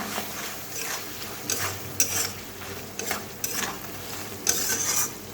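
Masala spice mix being fried and stirred in a pan while cooking, with a steady soft sizzle and repeated scraping strokes of a spoon against the pan at a close distance.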